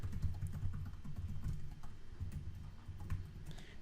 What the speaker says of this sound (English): I'm just going to type in an email address